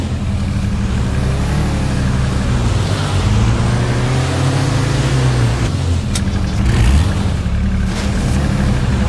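A pickup-style vehicle engine in H1Z1 driving steadily, a loud, close continuous motor drone with slight rises in pitch as it accelerates.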